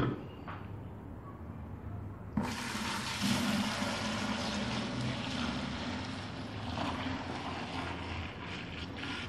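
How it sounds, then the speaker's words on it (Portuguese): Homemade liquid soap poured from a container into a bucket, a steady splashing, gurgling pour that starts abruptly a couple of seconds in and continues close and fairly loud to the end. "Agora eu vou despejar num balde aqui"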